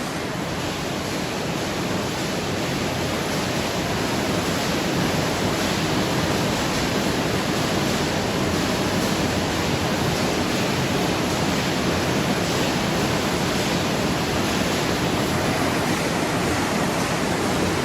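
A loud, continuous roar of wire mesh factory machinery fills the space without pause, a dense steady noise with no voices.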